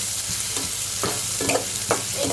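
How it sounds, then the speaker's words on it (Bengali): Chopped garlic, onion and small shrimp fry in oil for a taro-leaf dish, giving a continuous close sizzle broken by several knocks of a stirring utensil. "এখন আমি রসুন, পেঁয়াজ আর চিংড়ি মাছ ভেজে তেলে দিব"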